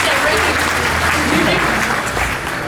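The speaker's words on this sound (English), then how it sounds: "Round of applause for Karen and Scott, everyone." Applause from a live show audience at a Disney Animal Kingdom bird show, steady and loud throughout, with a host's voice talking over it.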